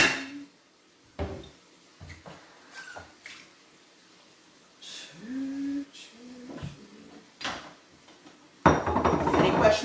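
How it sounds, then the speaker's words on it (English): Eggs being scrambled in a pan while cooking steak and eggs, with scattered clinks and scrapes of utensil on cookware, brief sizzling bursts and a louder clatter at the end, under occasional talk. "I'm going to scramble some eggs."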